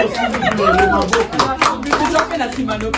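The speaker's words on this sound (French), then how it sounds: "Applaudissez pour notre public." Audience clapping at a birthday celebration with fans, scattered uneven claps mixed with overlapping voices, children's chatter and talk close by.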